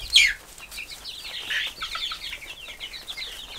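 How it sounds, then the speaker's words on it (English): Baby chicks give a dense chorus of high, rapid cheeping with soft clucks, starting with one loud sharp peep and then a steady, busy twittering close by in a livestock setting. "He don't know what to think of these baby chicks."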